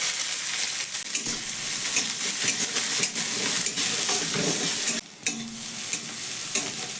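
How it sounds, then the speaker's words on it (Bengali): Chopped onion sizzles and crackles steadily in hot oil with cumin seeds, a close, continuous frying hiss with occasional stirring scrapes and one brief drop partway through. "পেঁয়াজটা হালকা করে এইভাবে ভেজে নেওয়ার পর"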